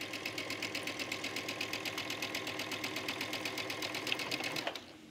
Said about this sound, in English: I'm starting with the under collar, sewing the center back seam